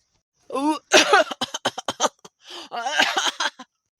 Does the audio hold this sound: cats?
no